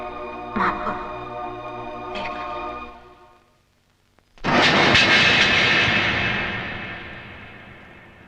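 An airplane departing: a distant engine drone fades nearly to silence, then a loud jet roar rises abruptly and slowly tapers as it climbs away.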